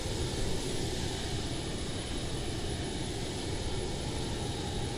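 Simulated Boeing 727 jet engines hum in Microsoft Flight Simulator as the airliner taxis, a steady broadband engine roar at moderate level, unchanging and free of speech.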